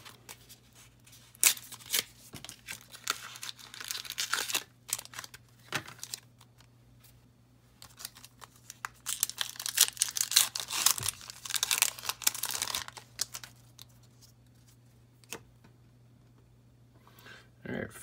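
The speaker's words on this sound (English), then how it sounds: "Let's crack this pack." A Magic: The Gathering Zendikar Rising set booster pack's foil wrapper is torn open up close, giving several sharp crinkling, ripping bursts over a low steady hum, with quieter rustling between.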